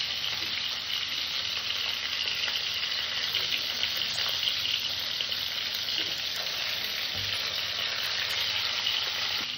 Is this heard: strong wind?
no